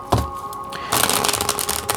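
A deck of cards being shuffled up close, a brief riffle followed by a longer rapid fluttering rush of cards.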